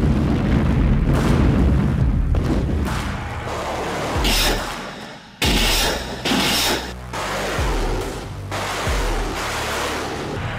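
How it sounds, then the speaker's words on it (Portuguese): Grad and Uragan multiple rocket launchers firing, a continuous roaring rumble with heavy booming bursts and surges, loud and spread out, like a barrage heard from some distance. "os lançadores múltiplos de foguetes Grad e Uragan"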